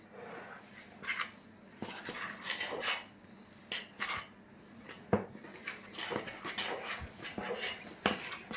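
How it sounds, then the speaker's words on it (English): A spoon scrapes and knocks against a bowl while scone mixture is mixed, giving soft irregular clinks and rubbing strokes, close and fairly quiet with no talking. "we're going to mix that all back round again"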